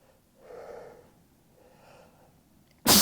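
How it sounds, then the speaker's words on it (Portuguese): A person breathes in with a few sharp, wheezy inhales, then lets out a sudden loud sneeze at the very end. "peraí que eu vou espirrar"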